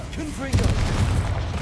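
A fiery explosive spell detonates in a wizarding action game with a loud, muffled boom that rolls into a low rumble, just after a short shouted voice.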